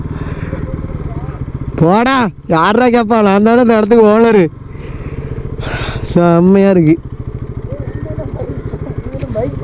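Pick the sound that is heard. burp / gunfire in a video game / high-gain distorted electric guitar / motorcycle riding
motorcycle riding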